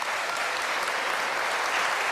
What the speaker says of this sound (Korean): 박수 한번 보내주시기 바라겠습니다